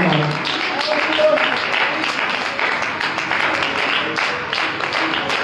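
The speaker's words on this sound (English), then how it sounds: "clap your hands if you believe that right now" Church congregation clapping hands together during a worship service, a dense, steady patter of many hands filling the room throughout, with some voices mixed in.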